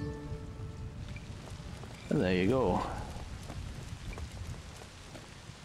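Steady rain patters in the Chicken Run video game, a continuous soft hiss running throughout, while someone briefly speaks over it.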